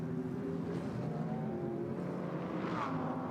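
GT race cars, a Porsche Cayman chasing an Audi R8 LMS GT4 at the SRO GT Cup in Pingtan, droning with a sustained engine note at a distance, one car's pitch rising briefly near the end.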